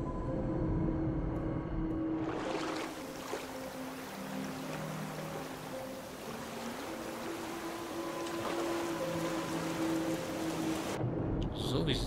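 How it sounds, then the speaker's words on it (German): Steady rain with rumbling thunder in the survival game Raft, a dense hiss of rainfall over low rolling rumbles with music tones beneath, continuing for several seconds before cutting off. "Und es regnet."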